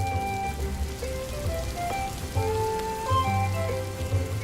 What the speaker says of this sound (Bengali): বাইরে বৃষ্টির শব্দ বাড়তে থাকে